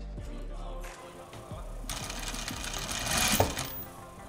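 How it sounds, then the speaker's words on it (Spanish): Sewing machine stitching bias binding onto straight-laid fabric, a steady continuous motor whir with needle clatter that runs the whole time and grows slightly louder toward the end, with no voices. "Colocamos la tela recta y vamos a seguir cosiendo el biés."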